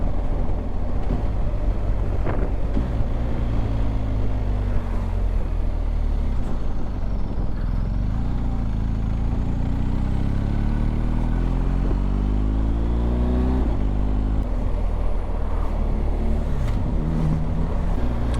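A BMW R 1250 GS Adventure motorcycle is ridden at speed, its engine drone steady and close under heavy wind rush, with rising and falling pitch as it shifts through gears and changes throttle.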